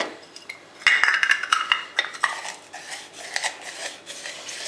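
Garlic gets crushed in a hand-held garlic press in a home kitchen, with close metallic scraping, clicks and clinks in an irregular run of squeezes and taps.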